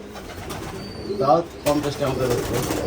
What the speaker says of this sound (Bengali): অনেক কবুতর আছে কতগুলো কবুতর আছে